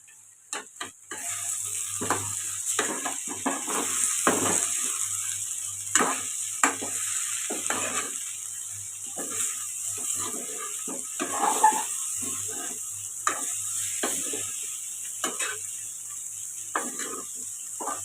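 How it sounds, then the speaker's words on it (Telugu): Potato and meal maker curry with coriander powder being stirred in a pan: a spoon scrapes and taps the pan in irregular bursts over a soft steady frying hiss, close and clear, with no talking. "అలాగే ధనియాల పొడి ఇవన్నీ కలిసేలాగా బాగా కలుపుకుందాం"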